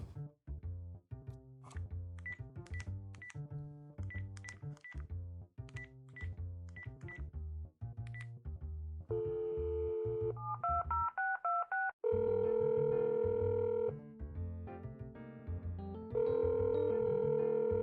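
Landline telephone in a murder-mystery video game: a run of quick dialing tones in rhythmic bursts, then a steady ringback tone repeating in long pulses, clear and close with no talk.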